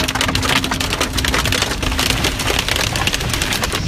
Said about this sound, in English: yesterday another afternoon blast of pelting rain